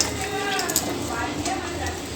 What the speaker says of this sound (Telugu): ఇది బటర్ మసాలాకి ఇంకొంచెం ఫ్రై చేస్తున్నాము.